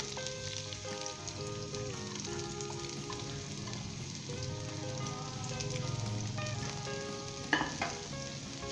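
Onions frying in hot oil in a pan, a dense continuous sizzle and crackle at close range with faint stirring, steady throughout with one brief louder clink near the end, no voices.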